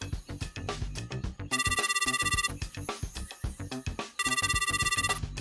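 An outgoing telephone call rings in repeated bursts, bright electronic trills alternating with a busy musical game-show bed, fairly loud and with no talking over it.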